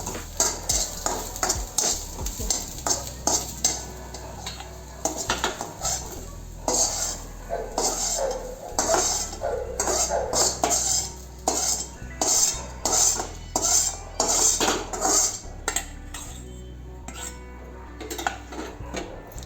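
Metal utensils scrape and clink against a pan as fried, reddish-browned onion is lifted out for a shev bhaji gravy. Irregular clattering strokes repeat close by over a faint sizzle.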